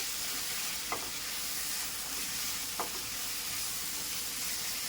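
Tomatoes frying in onion and ginger-garlic paste give a continuous bright sizzle and hiss, with two faint scrapes of stirring, close by and without talk.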